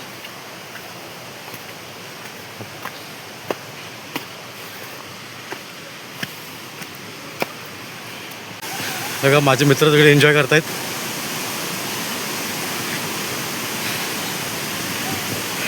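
Steady broadband rush of the Savat Sada waterfall in Konkan during the monsoon, with reduced flow, heard from the steps climbing up beneath it; someone talks over the roar, which grows noticeably louder partway through.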